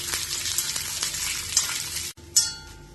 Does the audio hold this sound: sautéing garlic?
yes